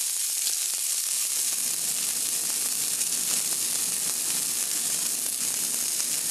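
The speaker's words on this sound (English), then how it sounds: "Turn on my fan." A steak fries in a pan while a kitchen fan runs, giving a steady loud wash of sizzle and whooshing air that holds even and continuous with no voices.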